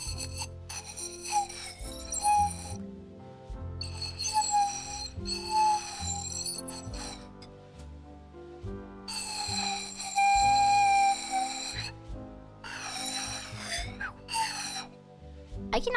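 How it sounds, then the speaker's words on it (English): Repeated whistle-like squeaky tones in bursts, with bright harmonics, from air blown through a drinking straw; close and fairly loud, with gaps between bursts. "I wasn't whistling, I was blowing air into my straw. And it makes funny noise."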